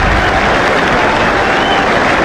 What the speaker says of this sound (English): listen now to this crowd.